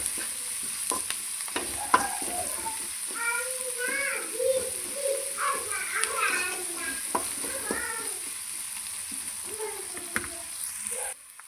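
Sliced onions sautéing with a little salt in a pan, a steady soft sizzle with occasional stirring scrapes while someone talks over the cooking throughout.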